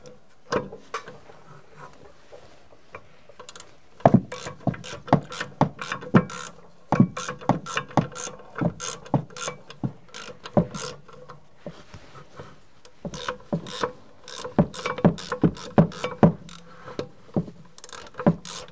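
A ratchet with a 3/8-inch bit clicks in repeated short bursts while screwing in a part of a Mercedes W211 parking brake, close and fairly quiet, with pauses between strokes.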